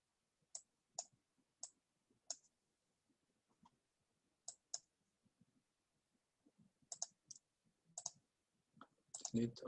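Computer mouse clicks while setting up a spreadsheet solver, several crisp single and double clicks spaced by quiet gaps, close and faint, with faint rustle near the end.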